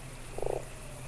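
A single short croak from a toad in the Fran Bow video game, a brief rattling pulse standing out over a steady low background hum.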